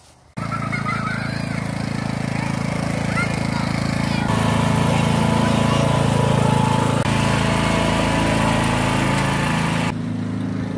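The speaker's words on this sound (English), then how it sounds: "first ride on a lawnmower." Riding lawn mower engine running loud and close, a steady droning roar that starts abruptly and holds for about ten seconds as a small child rides along.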